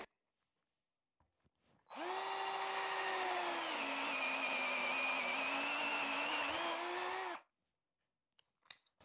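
A Parkside 20V cordless drill driver runs in one sustained burst of about five seconds, a loud whining motor with a slight dip in pitch under load, starting and stopping abruptly, with a few small clicks afterward.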